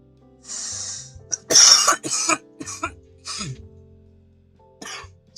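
A person coughing repeatedly, a run of sharp, harsh bursts close to the microphone with short gaps, one heavier cluster in the middle and a final isolated cough.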